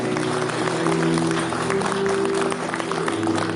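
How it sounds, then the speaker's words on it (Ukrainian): Steady applause from a theatre audience at a culture workers' day ceremony, dense and continuous throughout with a faint tonal hum underneath. "Просимо гучніших оплесків."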